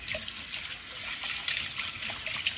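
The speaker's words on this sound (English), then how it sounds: "And then I rinse it out." Tap water runs steadily while a cleaning item is rinsed out in a kitchen sink, a continuous splashing gush close by with no voices.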